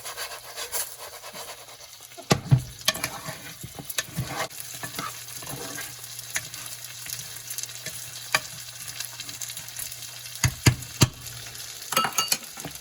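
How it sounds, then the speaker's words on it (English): Chicken biryani rice fries in a pan while a utensil stirs and scrapes through it, with soft sizzling under scattered clinks and scraping strokes, fairly quiet and close. "moving it around the pan so that it doesn't burn, and I'm gonna let it sit long enough to brown"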